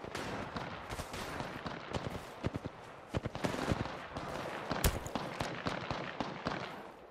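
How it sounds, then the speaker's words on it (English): Video game gunfire rings out in a run of sharp, separate cracks and short bursts, some near and loud and others fainter, with brief gaps and no talk over it. "He's shooting at somebody else,"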